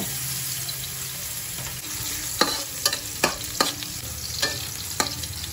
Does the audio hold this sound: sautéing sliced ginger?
yes